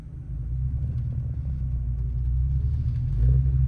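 A manual car's engine rumbles low and heavy while the clutch is let out slowly, the idle bogging down near stalling and then rising slightly toward the end, with no talk over it.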